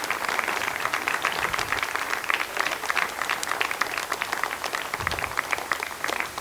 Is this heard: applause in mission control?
yes